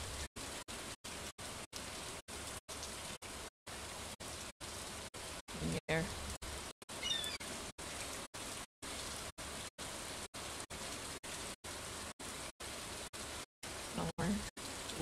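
Steady rain hiss from Stardew Valley fills the scene, broken repeatedly by brief silent gaps, with faint small tones and a few chimes over it.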